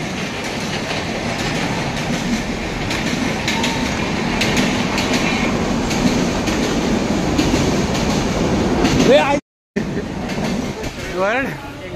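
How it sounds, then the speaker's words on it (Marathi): A train pulls into a station with steady rumbling and clickety-clack of rail cars, loud and close, with brief wheel squeals near the end and people talking over it. "हे ट्रेन आली"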